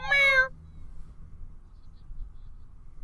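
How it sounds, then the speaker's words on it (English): A house cat gives a single loud, close, drawn-out meow at the very start, followed by quiet room tone. "And a commencement meow from Callie"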